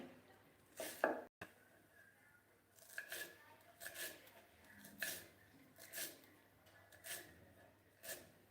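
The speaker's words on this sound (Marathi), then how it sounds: "आता कोथंबीर पण आपण बारीक चिरून घेऊया" Coriander being finely chopped with a knife for uttapam, giving a series of crisp, regular cutting strokes close up, evenly spaced over several seconds, with no one talking.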